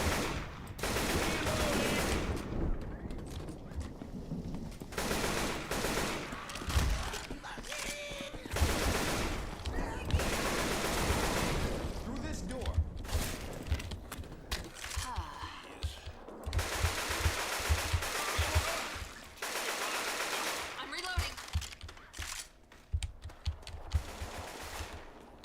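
Rapid bursts of AK rifle fire in the zombie shooter game Left 4 Dead 2 rattle almost continuously, loud, dense volleys broken by brief pauses.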